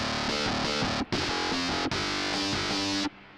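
Harsh, fizzy distorted guitar chords strummed loudly in a few sustained bursts, with brief gaps between them and a bright, buzzy raw tone, played without cabinet simulation.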